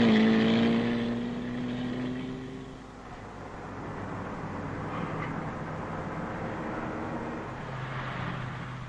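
A Simca Ariane car descends from the Col de la Faucille with a steady engine drone and road rumble. It starts with a rising engine tone, then settles into a continuous, moderately loud hum with no voices.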